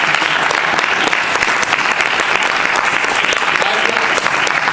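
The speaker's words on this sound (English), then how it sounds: "Give yourselves a round of applause." Attendees of an acting workshop at the Youmacon 2015 convention give a loud, sustained round of applause, many hands clapping together in a close, even roar with no break.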